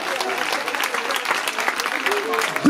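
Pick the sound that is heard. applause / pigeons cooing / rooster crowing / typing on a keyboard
applause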